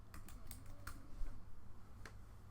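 Quick bursts of keystrokes on a computer keyboard, a handful of crisp clicks in an uneven rhythm, close but faint against a low background hum.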